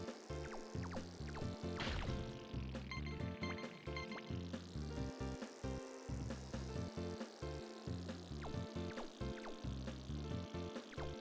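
A steady spraying, gushing water-gun sound from the PS1 game RC Helicopter, mixed over busy electronic music that runs continuously throughout.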